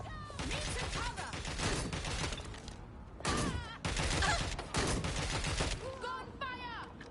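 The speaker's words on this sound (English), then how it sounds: "Gunfire!" Bursts of rapid gunfire crackle through a chaotic game battle, with shouting voices and music layered over the shooting.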